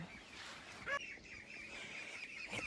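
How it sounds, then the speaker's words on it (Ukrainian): Ducks quack in short nasal bursts, a couple of loud calls over a steady background hum, with no talking. "Ой, качки кричуть, бо на двір хочуть гуляти"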